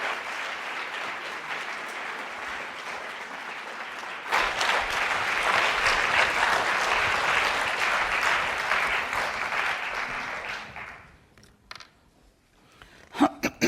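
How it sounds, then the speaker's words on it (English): Symposium audience claps for an arriving keynote speaker, the applause starting moderately, swelling louder midway, then fading out into a few scattered final claps. "Let's give her a really warm round of applause"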